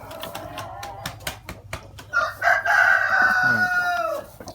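A black hen in a nest gives a run of clucks and squawks, close and fairly loud, ending in a longer agitated call.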